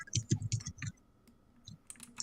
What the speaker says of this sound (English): going crazy on that keyboard